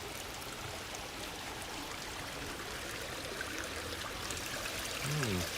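Spring-fed stream water trickling in early-morning Tokyo, a continuous close wash of flowing water, steady throughout with a slight swell near the end.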